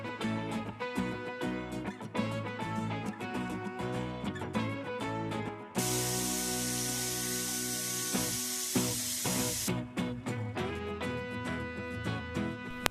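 A pressure cooker cooking rice lets out a loud, continuous steam hiss lasting about four seconds midway, set against steady background music that plays before and after.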